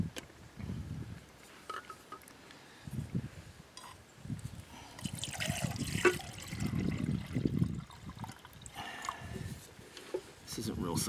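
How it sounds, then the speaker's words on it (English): Water poured into a lightweight camping cook pot from a canteen setup, splashing and trickling in uneven bursts close by, with someone speaking intermittently over it. "Okay, so I'm gonna add some water."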